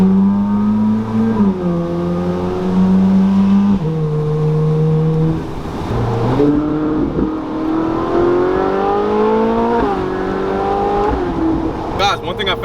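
A Ferrari 458 Spider's engine pulls hard through several upshifts, each rising howl cut by a brief dip at the gear change, loud and close from inside the car, with a sharp clatter near the end.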